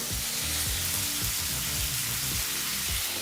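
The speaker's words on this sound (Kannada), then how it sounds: "ಈಗ ನೀರಿಂದ ಆಲೂಗಡ್ಡೆನ ಹೊರ ತೆಗೆದು ಬಾಣಲಿಗೆ ಹಾಕೋಬೇಕು ಚೆನ್ನಾಗಿ ನೀರನ್ನು ಸೋರಿಸಿ ತದನಂತರ ಹಾಕಬೇಕಾಗುತ್ತೆ ಇಲ್ಲಾಂದರೆ ಎಣ್ಣೆ ಸಿಡಿಯುತ್ತೆ" Potato sticks for desi masala French fries frying in hot oil in a pan, a steady dense sizzle with soft crackles and occasional stirring clinks, close and continuous with no talk.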